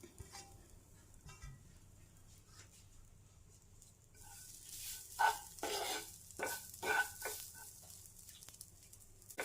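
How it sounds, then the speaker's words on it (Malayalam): Three-quarter cup of coconut dry-roasting in a pan for a Kerala munthiri kothu snack, with a low hiss at first, then several louder, close scraping stirs in uneven bursts. "പാനിലേക്ക് തന്നെ നമുക്ക് തേങ്ങ എടുത്ത് വെച്ചിരിക്കുന്നത് ഇട്ട് കൊടുക്കാം"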